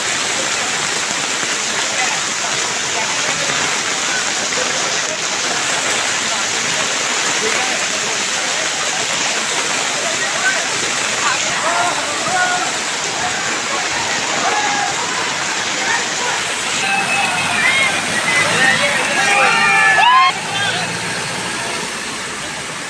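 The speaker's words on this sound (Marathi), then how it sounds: "भरपूर असा पाऊस या ठिकाणी" Heavy monsoon rain falls steadily in flooded Nalasopara streets, a constant loud wash of water with sloshing splashes toward the end as something moves through floodwater, and a vehicle engine faintly underneath.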